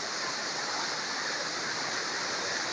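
A man-made waterfall roars as a steady, dense rush of falling water, loud and continuous with a broad hiss and no breaks.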